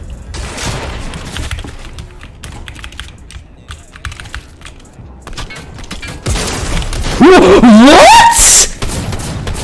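Gunfire in Fortnite, a rapid rattle of shots at close range, loud and clipped, mixed with a brief spoken word and a rising tonal in-game effect near the end.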